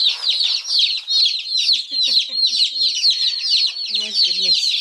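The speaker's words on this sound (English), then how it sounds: "for day-old chicks, they sure don't take long to get moving around, trying to escape already" Day-old chicks chirping constantly in a dense, high-pitched chorus of rapid peeps, close and lively, with a few soft lower clucking sounds mixed in near the end.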